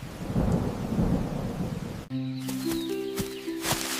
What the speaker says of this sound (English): a powerful storm swept through the jungle. The strong wind knocked down the remaining mangoes.